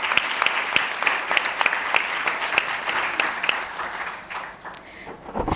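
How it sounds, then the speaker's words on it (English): Audience at a FLO and YFLO annual session and change-of-guard event applauding, dense close clapping that stays steady and then thins out toward the end. "A big round of applause for both of them."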